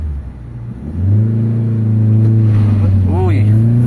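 A car with a badly tuned carburetor that had trouble starting revs up on a test drive, the engine rising from idle into a loud, steady drone with a brief higher whine near the end.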